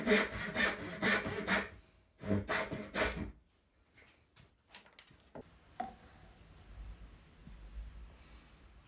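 A handsaw cuts old oak sleeper beams to size with rhythmic rasping strokes in two quick bursts, close and clear, followed by softer scattered knocks and scrapes of the wood being handled.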